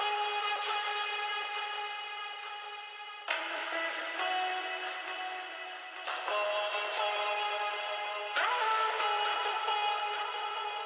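A chopped vocal sample dressed in heavy effects for a future house track, with bright, thin, echoing vocal tones in four sustained sections that switch abruptly, moderately quiet and alone.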